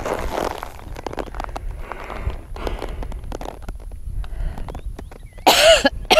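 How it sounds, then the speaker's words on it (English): Soft rustling and shuffling sounds give way to one sharp, loud cough near the end. "Excuse the cough."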